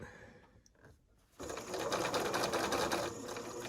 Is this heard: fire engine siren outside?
no